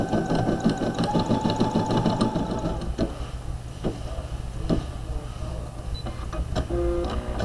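An embroidery machine stitches a monogram onto a bag with a steady, rapid mechanical clatter and rhythmic ticking, close by and continuous throughout.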